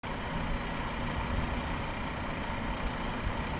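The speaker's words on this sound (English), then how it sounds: "Or a microwave?" Constant low droning hum with a broad rumbling texture, like a microwave oven running, steady and unbroken throughout.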